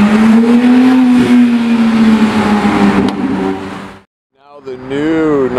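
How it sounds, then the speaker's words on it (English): A Miami Blue Porsche 911 GT3 RS sports car drives past on a Saturday night, its loud engine note rising and falling as it goes by, followed by a short gap and another vehicle approaching. "Miami Blue GT3 RS, right there."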